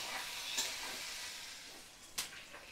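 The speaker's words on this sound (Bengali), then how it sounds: "সমস্ত মশলা ভালো করে আমি মিশিয়ে নিচ্ছি।" Spices sizzle and fry in a pan over a low gas flame while being stirred, a steady close hiss broken by a few sharp scrapes of the spoon, with no voices.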